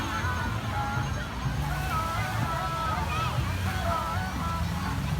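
Sea waves wash and slosh continuously at Patar Beach, a steady surf roar with wind buffeting the microphone while people talk and chatter over it nearby.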